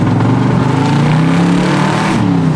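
A Chevrolet Camaro with a new aftermarket carburetor and loud tailpipes revs hard, its engine note rising and falling in a strong continuous growl, close and loud.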